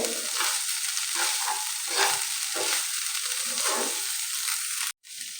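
Small kachki fish fry in a pan with a continuous crackling sizzle and scraping stir strokes, close and steady, with a sudden brief cut near the end and no talking.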